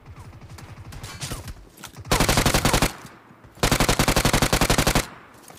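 Machine gun fire in a shooter video game comes in rapid automatic bursts: a quieter stutter first, then two loud sustained volleys separated by a short pause.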